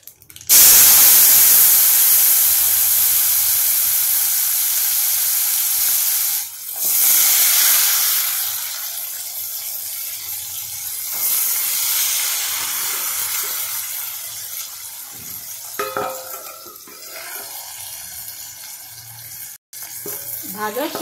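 Vegetables hit hot oil seasoned with asafoetida and turmeric, and a loud hissing sizzle bursts out at once, then settles into a softer, steady fry with a few utensil clinks near the end.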